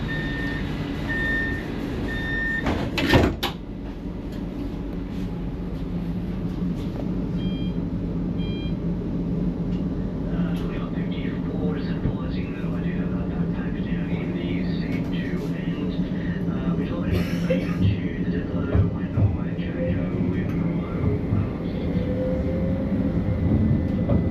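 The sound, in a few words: Newcastle Light Rail tram running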